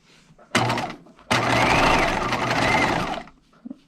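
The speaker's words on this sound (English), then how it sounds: "you need to make sure to kind of maneuver this over the free arm of your machine because we're just stitching between two layers" A domestic sewing machine stitches through two fabric layers of a dress on its free arm in two bursts, a short run and then a steady loud whirring hum of about two seconds, close by with no talk.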